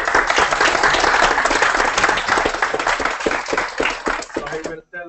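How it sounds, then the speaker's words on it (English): An audience at a seminar breaks into dense, steady applause before a talk, many hands clapping together at close range for several seconds before the clapping fades out. "we applaud before he starts"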